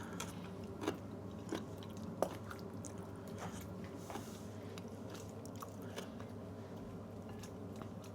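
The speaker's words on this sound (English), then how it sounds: "Sorry if there's a loud crunching sound." Crunchy bites and chewing of fresh cucumber while cooking a honey salmon dish, heard as faint, irregular crisp clicks over a steady kitchen hum.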